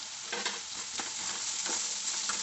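Sliced potatoes frying in oil with ground masala added, a steady close sizzle broken by a few stirring scrapes, no talking.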